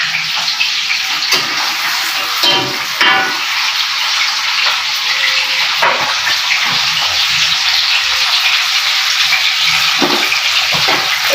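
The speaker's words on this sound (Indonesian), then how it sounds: "Gue goreng kentang." Potatoes frying in hot oil for a chicken-feet soto, a loud continuous sizzle with a few sharper crackles and bursts, heard up close with no talking.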